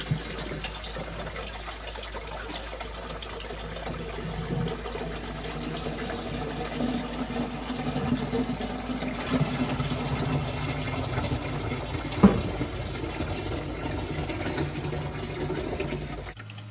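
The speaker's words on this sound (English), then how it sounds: "hopefully you'll be able to see the water coming into the sump" Water running steadily into the sump of a Waterbox Marine X 60.2 reef aquarium, a continuous close trickle and splash with a low hum beneath and one brief knock partway through.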